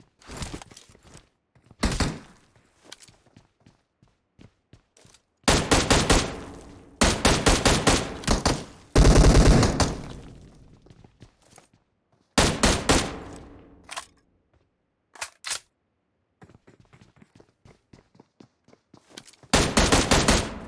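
PUBG Mobile video game gunfire, loud bursts of rapid shots spaced by silent gaps, some long automatic strings and some short volleys, with no talk over them.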